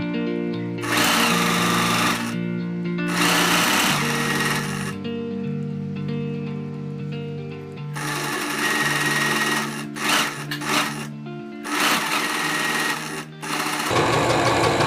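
A sewing machine stitching the lining of a tailored circle skirt runs in loud, steady bursts with brief pauses between them. Its whirring hum stops and restarts several times, with no talk over it.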